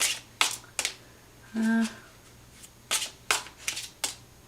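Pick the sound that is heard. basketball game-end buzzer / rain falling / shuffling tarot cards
shuffling tarot cards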